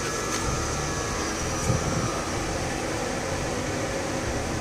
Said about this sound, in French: Donc t'as les refroidisseurs qui se mettent en route.